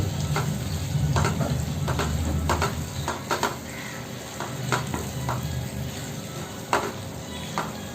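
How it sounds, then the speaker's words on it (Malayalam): Paneer cubes stirred into a simmering kurma gravy in a pan, with a steady low bubbling sizzle broken by repeated scraping strokes of a spoon against the pan, close and moderately loud, no talking. "നന്നായിട്ട് മിക്സ് ചെയ്യുക ഗ്രേവിയുമായിട്ട്."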